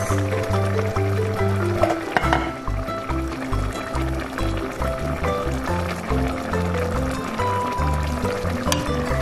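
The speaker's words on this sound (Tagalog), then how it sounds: "So, maglagay lang tayo ng kaunting patis." Filipino fish sauce (patis) is poured into a cooking pot of green beans, pork and coconut milk, making a steady liquid pour against continuous background noise.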